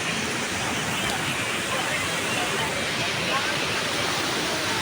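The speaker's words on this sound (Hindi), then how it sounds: "ये पानी बह रहा है इस साइड से, और ये इस तरफ को पानी सारा जा रहा है।" Fast river water on a Swat river rushing past, a steady, loud, broadband roar of flowing water that continues without a break, close by.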